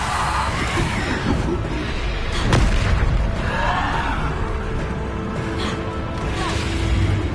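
Bombarda spell explosions in a video game, booming blasts with whooshing bursts over a dense, continuous layer of battle noise, with a voice calling out spell names.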